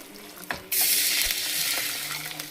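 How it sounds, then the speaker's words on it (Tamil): Water pours steadily into a cooking pot of thin sambar after a couple of light clinks, a bright continuous splashing rush that carries on to the end. "தண்ணி சேர்த்துக்கலாம்"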